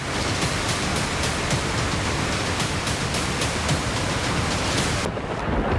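Heavy evening rain pours down on Bengaluru in a dense, steady roar, close and loud, without pause.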